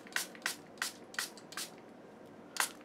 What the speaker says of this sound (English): Spraying water on my brushes.